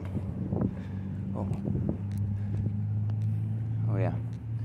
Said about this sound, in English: These fucking cars come.